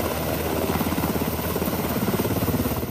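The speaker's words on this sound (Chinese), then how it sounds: "空勤黑鹰再度起飞进行第二梯次的救援任务" A Black Hawk helicopter taking off on a mountain mine rescue flight, its rotor thumping in a fast steady pulse over a loud engine roar, close and continuous with no voices.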